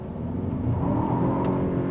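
A 2025 Lincoln Corsair front-wheel-drive SUV pulls away hard from a standstill in Excite mode, its engine a steady, loud, close-up drone that builds slightly over a couple of seconds with no talking.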